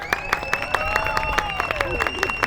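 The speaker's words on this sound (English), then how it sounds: "clap your hands and make some noise" A crowd gathered around a street performance in Boston claps and cheers steadily, with sharp, rhythmic handclaps and sustained whoops rising over the noise, while a voice carries through the middle of it.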